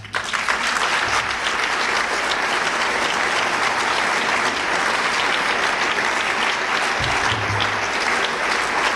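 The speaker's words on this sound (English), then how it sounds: "I hope you know, Tabby, that they're clapping for you and not for me." Sustained, dense applause from a large audience at the 2003 National Book Awards ceremony, steady and loud for the full stretch without a break.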